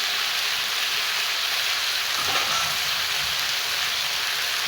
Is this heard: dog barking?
no